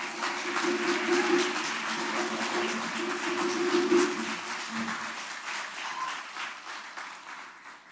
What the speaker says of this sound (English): Can we give another round of applause to Elaine Brown?